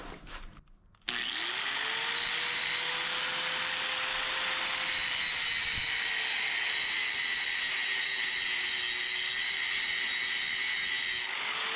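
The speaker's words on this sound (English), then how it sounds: "While we got the grinder out, let's cut this stuff poking out over here." An angle grinder cuts off protruding metal on a Gravely 8-speed tractor, spinning up after a brief quiet moment into a loud, steady high-pitched whine that holds for about ten seconds.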